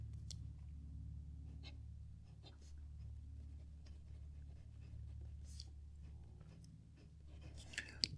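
A broad 18 karat gold fountain pen nib glides across paper in faint, soft scratchy strokes, barely rising above a steady low hum in a quiet room.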